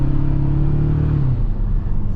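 Toyota Tacoma TRD Sport four-cylinder truck, a 2026 model, pulling hard under acceleration: a steady, loud engine drone with a rising harmonic whine that fades out partway, then a broad rumble continues alone.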